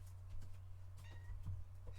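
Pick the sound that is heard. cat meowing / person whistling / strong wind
cat meowing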